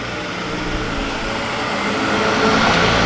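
A turbocharged 1967 Ford Mustang with stock internals running 10 PSI of boost gives a loud, steady engine roar close by that swells slightly toward the end.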